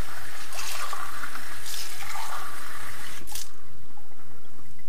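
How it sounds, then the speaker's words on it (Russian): Hot water splashes and trickles as it is poured into drinking glasses, a steady close pour lasting a few seconds before it stops abruptly, with no talking. "И опять в эти стаканы я наливаю горячую воду."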